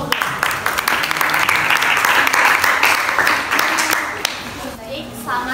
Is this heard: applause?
yes